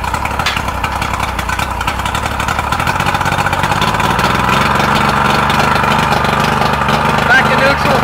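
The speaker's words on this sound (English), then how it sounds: "Pop it in forward, give it a little gas." Nitro 90 hp outboard engine on a Tracker boat running in forward gear with a little throttle, a loud, steady, close motor drone throughout, slightly rising partway in.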